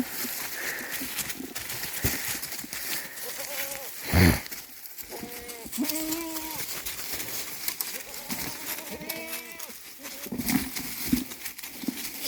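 Purebred Nubian goats bleat on a farm in several distinct wavering calls spread through the recording, fairly close, with a sharp knock partway and steady background noise.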